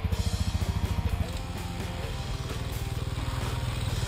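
A Suzuki DR enduro motorcycle climbing a steep hill, its engine a loud, steady, throbbing drone with rapid pulsing firing beats that hold strongly throughout.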